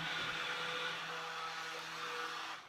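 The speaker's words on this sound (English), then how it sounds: "And now I'm gonna take my big immersion blender back and start blending the sand." A large immersion blender whirs steadily through soap batter mixed with sand, a loud, continuous motor drone holding level for a couple of seconds before cutting off.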